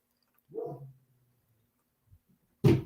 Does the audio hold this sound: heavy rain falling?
no